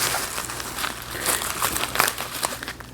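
Close, continuous crinkling of a small plastic bag being handled, with irregular rustles and crackles throughout.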